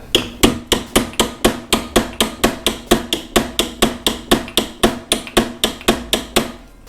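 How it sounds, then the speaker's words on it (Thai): A hammer driving a pin out of a Hatari 18-inch Slide Smart electric fan under repair, about two dozen sharp metallic blows in a steady even rhythm, loud and close. "ถ้ารู้สึกว่ามันตีออกยากนะ ก็ให้เราเอา ตะปูก็ได้นะครับเล็กๆนะมา ตอกนะครับ"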